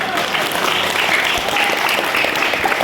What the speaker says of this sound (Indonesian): tepuk tangan dulu untuk adik-adik saya yang dalam pesantren